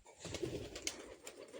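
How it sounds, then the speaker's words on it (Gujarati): Pigeons coo softly among sapota trees on a farm, a faint, low murmur of repeated calls at a distance. "આ છે કબૂતરા જુઓ"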